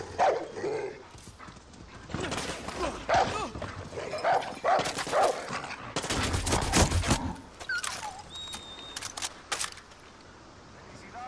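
A dog barks repeatedly in Far Cry 6, its barks scattered among sharp gunfire-like bursts and other game sounds at moderate volume.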